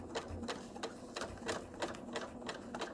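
Domestic sewing machine running free motion embroidery with metallic thread, a quiet, steady rapid clatter of needle strokes at an even rhythm, heard alone and close.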